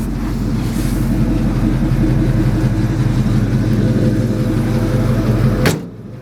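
A 1947 Ford pickup with a 351 Cleveland V8, four-barrel carburettor and four-speed runs with a loud, steady, close engine rumble that cuts off abruptly near the end.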